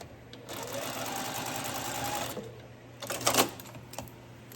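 A sewing machine stitches a seam on a liner for a Longaberger basket, a steady close whirring run for about two seconds, then short stop-start bursts with clicks.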